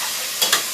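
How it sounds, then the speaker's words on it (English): Zucchini sautéing in olive oil in a home kitchen pan gives a steady, broadband sizzle, with two brief louder bursts near the end as the pieces are stirred or shifted. "we got the zucchini sauteing in the olive oil"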